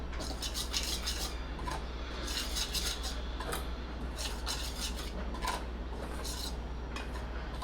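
Bread patty batter being stirred with salt and cumin in a bowl, a steady run of scraping and clinking from a spoon against the bowl, close and fairly quiet, with no talking.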